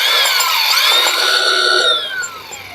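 A Makita cordless power tool runs loud and close, a steady whining buzz with shifting pitch as it bites into material for about two seconds, then drops away quickly.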